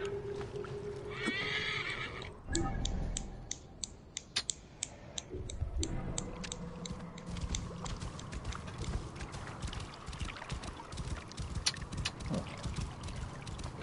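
A horse whinnies briefly near the start in the video game Assassin's Creed Origins, followed by steady clip-clop hoofbeats and ticking clicks over a busy game-like background.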